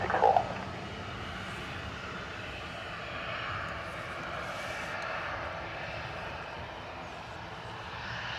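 A jet airliner rolls for takeoff from runway 10 right at Dublin Airport, its engines a steady, distant broadband roar that swells slightly midway and holds throughout with no talk over it.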